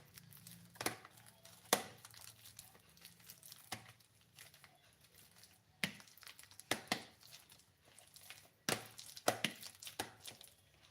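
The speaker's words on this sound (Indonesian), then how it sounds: "Kemudian pisangnya dilumatkan," Ripe bananas being mashed and smoothed with a spoon or fork for a steamed banana cake, giving repeated soft, wet squishing taps and scrapes at an uneven rhythm, close up with no talking.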